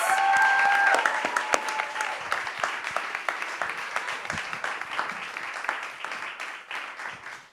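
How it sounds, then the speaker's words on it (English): Theater audience applauding after a dance performance at a post-show talk, a dense sustained burst of clapping that is loudest at the start and gradually thins and fades over several seconds. "Applause. All the applause."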